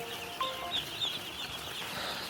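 Broiler chickens in a large poultry shed of about 4,100 birds cluck and squawk in short rising calls over a steady dense murmur of the flock.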